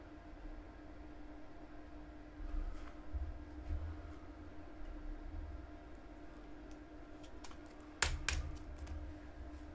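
Soft computer keyboard typing rattles in short bursts, recording the results of a coin roll hunt, over a steady low hum with a couple of sharper taps near the end.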